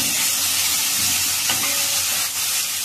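Onion and tomato sautéing with cumin powder, red chilli powder and spice masala in a pan on low flame, a loud steady sizzle with stirring scrapes, close and continuous.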